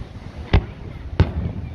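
Two distant Fourth of July firework bangs at Redondo Beach, about half a second apart, each a sharp thud over a low background hiss.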